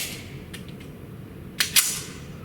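Two sharp shots from a Springfield 1911 Range Officer handgun on a shooting range, heard a little apart near the end, after a few fainter clicks and knocks.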